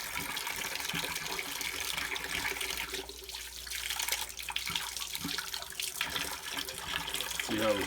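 Water runs steadily from a newly installed single-hole kitchen faucet into a sink, a continuous broadband splash of moderate level with a slight change in tone partway through.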